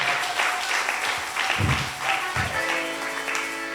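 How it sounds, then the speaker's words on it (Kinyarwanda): A church congregation claps during a charismatic prayer service, rhythmic applause mixed with voices and a musical, tonal background that swell and fade over a few seconds. "Abandi dukomere Yesu amashyi menshi cyane."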